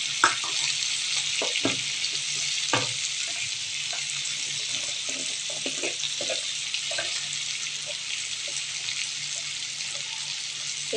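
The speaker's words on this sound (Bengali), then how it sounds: "কাশ্মীরি লঙ্কা মির্চ দিয়ে ভালো মতন এটা তেলের ওপর ফ্রাই করতে দিয়ে দেবো" Spices with Kashmiri chili fry in oil in a pan. The sizzle is steady and hissing, broken by scattered soft stirring clicks and scrapes, and nobody speaks.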